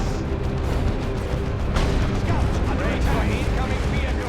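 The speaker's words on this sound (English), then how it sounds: "The Chaos Predator's cannon has just a slightly different sound." Cannon fire from a Chaos Predator tank in the strategy game Dawn of War II: Retribution, with heavy booming shots in a dense battle mix and a sharp blast near the middle, all under steady talking.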